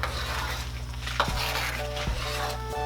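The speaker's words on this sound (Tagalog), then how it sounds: "Tapos halo-haloin po natin para ma-spread yung lasa ng ating asin." Salt being stirred into a suman mixture of rice and sugar in a pot, with steady scraping and clinking of a utensil against the vessel and a couple of sharper knocks, close and moderately loud.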